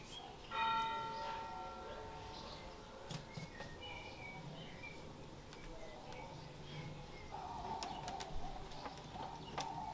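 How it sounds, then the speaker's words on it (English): Church bells toll on Good Friday in a Greek village, faint and distant strokes spaced apart over outdoor ambience with a few birds and soft background voices. "while the church bells tolled in reverence"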